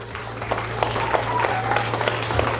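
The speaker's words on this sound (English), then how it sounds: "Can we clap for those children again?" An audience claps for children at a university ICT facility unveiling in Africa, a steady patter of applause from a nearby crowd lasting a few seconds with no speech over it.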